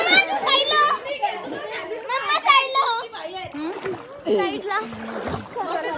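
Children splash and play in a swimming pool at a farmhouse, with water splashing under loud, continuous kids' shouting and chatter close to the listener.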